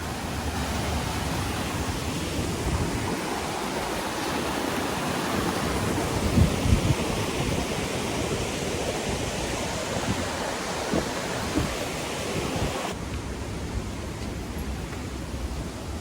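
Steady rushing water roars continuously, a broad unbroken wash of sound from Bomburu Ella waterfall in Sri Lanka heard from nearby, with no voices.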